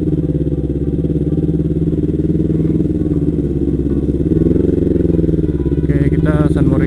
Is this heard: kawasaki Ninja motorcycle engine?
yes